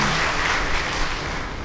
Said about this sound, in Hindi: हाँ बजाओ ताली